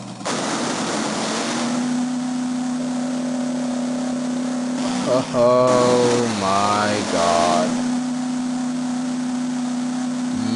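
A monster truck in a Game Boy Advance racing game drones with a steady electronic engine hum, broken midway by a burst of crashing and revving; a voice briefly exclaims over it.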